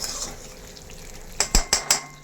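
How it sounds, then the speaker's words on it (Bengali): A metal spatula scrapes a pan of spices frying in oil for a cauliflower vegetable dish, four quick, sharp clanking scrapes in close succession after a quiet stretch of low sizzling. "আমার মতো কেউ আছে এরকম খুন্তির আওয়াজ একটু পরপর করো"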